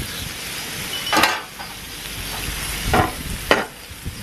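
Eggs fry in butter in a pan outdoors by a harbour, with a steady sizzle under a few sharper scrapes and taps of a utensil against the pan.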